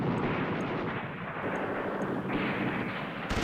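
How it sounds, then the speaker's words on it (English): Airstrike on an enemy HQ in the war game Command Ops 2, heard as dense continuous rumbling bursts of artillery-like explosions, loud and steady throughout, with no talking. "let's drop a airstrike on his HQ over there"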